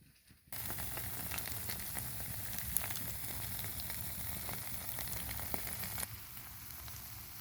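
Potato pancakes (deruny) with garlic and onion sizzle steadily in oil in a frying pan, a dense, even crackle that starts abruptly and holds at moderate loudness, with a few brighter pops and no talk.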